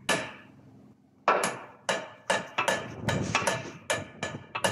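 A torque socket is hammered onto a broken hydraulic fitting: sharp metallic strikes, one, then a pause, then about eight more in quick irregular succession, loud and close.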